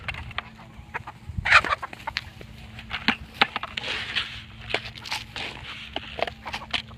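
Chickens clucking in short scattered bursts, fairly close, over a low steady hum with some rustling and footsteps.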